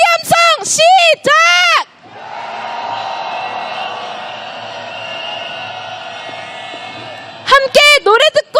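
A large outdoor crowd at a candlelight protest march against President Yoon Suk Yeol lets out a sustained roar of cheering for several seconds, framed by loud shouted chants from a leader through a PA before and after.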